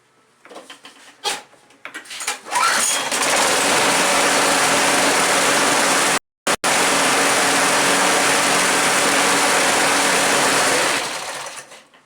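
A John Deere JS60 push mower and a Craftsman push mower start and run; after a few pulls, a loud, steady small-engine roar fills the space, breaks off for a moment, then resumes before fading.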